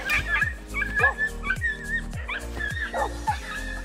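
Several dogs bark and yip in a steady series of sharp barks with some whimpering, fairly close by outdoors on a rocky coastal desert trip through Russia, with no talk over them.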